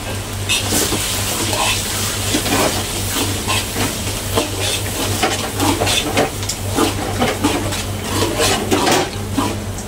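Spice paste frying in hot oil until crisp, a steady dense sizzle and hiss running throughout at close range, with a low hum beneath and faint scraping or stirring.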